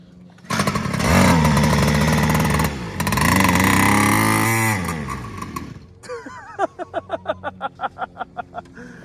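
The small engine of a kitchen stool racer with carburetor trouble gives a loud, rough, buzzing roar that surges twice, then cuts out and falls into a series of weak, evenly spaced chugging pulses as it fails to keep running.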